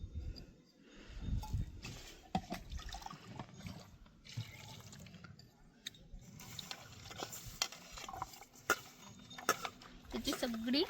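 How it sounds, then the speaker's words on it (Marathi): Chopped prickly poppy roots are washed by hand in clean water, with irregular splashing, sloshing and swishing up close, and a voice talking at times. "स्वच्छ पाण्याने धुवून घ्यायचं."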